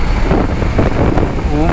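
Steady wind buffeting on a Harley-Davidson Street 750 test ride in third gear, a constant dense roar filling the whole clip with faint speech-like sounds mixed in.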